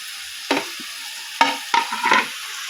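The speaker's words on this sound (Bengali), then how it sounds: "এবার আমি শুধু নাড়তে থাকবো।" Bottle gourd (lau) churchuri being stirred in a pan, a few separate scraping strokes with soft sizzling between them, close and without talk.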